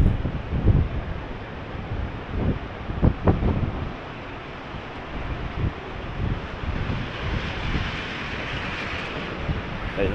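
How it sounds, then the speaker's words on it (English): Wind gusts during flooding in Innisfail, Australia, buffeting the microphone in uneven rumbling bursts over a steady outdoor roar. "Quite windy."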